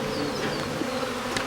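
A honey bee swarm being moved during a hive rescue, a dense continuous buzzing drone of many bees close by, steady and fairly loud throughout with no pauses or talk.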